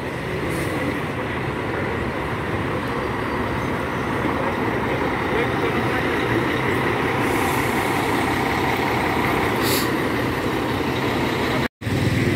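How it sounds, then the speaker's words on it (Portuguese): An Expresso União intercity bus from Vitória pulls into the Belo Horizonte bus station, a loud, steady diesel rumble with air-brake hisses near the end, while a voice talks throughout. "E aqui mais um Expresso União chegando de Vitória, esse no horário das 21h05"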